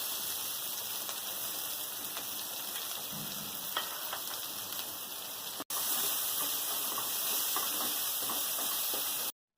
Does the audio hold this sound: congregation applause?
no